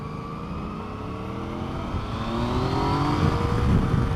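Yamaha FJ-09 Tracer motorcycle with its three-cylinder engine accelerating on a road ride, a steady rising drone that climbs in pitch and grows gradually louder, heard from the rider's position with wind noise and no talk.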